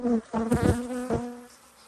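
Honey bees buzz close around a smoked beehive, a loud droning hum with wingbeat pulses swelling and dipping as individual bees pass near.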